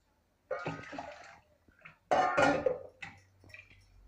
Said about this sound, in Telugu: కొద్దిగా వేడి నీళ్ళు వేసుకొని ఇట్లా తిప్పేసుకుంటానండి దీంట్లో